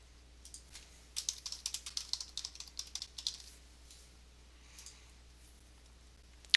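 Bursts of keystrokes on a computer keyboard during invoicing data entry, quick clustered clicks for a few seconds, then a pause, a couple of isolated taps and a final sharp click, close and fairly quiet.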